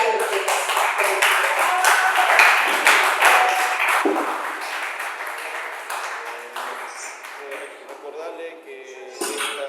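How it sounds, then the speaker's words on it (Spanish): An audience claps after a university conference. A steady, moderately loud round of hand claps thins out toward the end, with a voice speaking over parts of it. "Un fuerte aplauso para ello"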